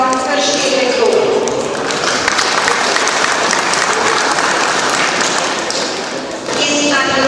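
An audience applauds at a school gathering, a loud sustained burst of many hands clapping that dips briefly near the end before swelling again, with voices mixed in.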